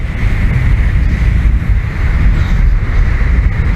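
Strong wind roars steadily across the microphone in the mountains, a constant heavy buffeting rush with low rumbling gusts and no voices.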